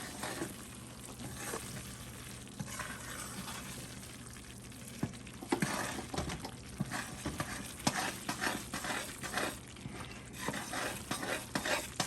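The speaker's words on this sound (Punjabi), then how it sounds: "ਹੁਣ ਅਸੀਂ ਇਹਨੂੰ ਚੰਗੀ ਤਰ੍ਹਾਂ ਹਿਲਾਉਣਾ।" Besan barfi mixture is stirred steadily in a pan, a continuous soft scraping and sizzling with occasional louder clinks of the spoon against the metal, heard alone at close range.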